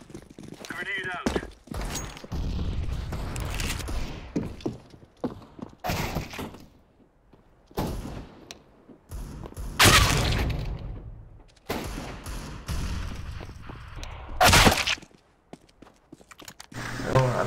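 Gunfire and grenade blasts in a Counter-Strike match between Na'Vi and FaZe Clan at the Boston event: loud broadband bursts and scattered shots recur every couple of seconds, with voices mixed in between.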